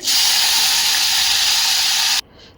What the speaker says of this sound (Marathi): ही संपूर्ण वांगी आपल्याला या फोडणीमध्ये घालून घ्यायची आहेत